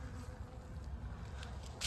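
Bees buzzing close by on a warm winter day in Kentucky, a faint, steady drone that holds throughout without talk.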